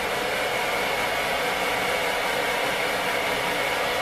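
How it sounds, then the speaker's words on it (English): A hair dryer blows steadily at close range while drying hair, a constant loud whooshing motor roar with no breaks and no talking. "Just gonna awkwardly blow dry my hair in front of everyone on here."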